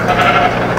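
Sheep in Minecraft bleating continuously, a wavering, nasal blocky-game bleat that fills the short moment at close range with no talk over it.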